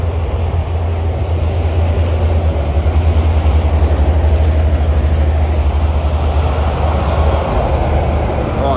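A Mainfreight truck rolls past on the M7 Motorway at Kings Park in Sydney, a loud, steady heavy rumble with a strong low drone that holds for the whole stretch alone.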